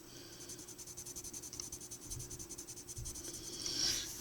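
Colored pencils from an economical King Art set shade dark color on paper with quick, rhythmic back-and-forth scratching strokes, soft and close, in a steady repeating pulse.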